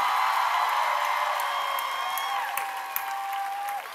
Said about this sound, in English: can we please give a massive round of applause for one of my new favorite bands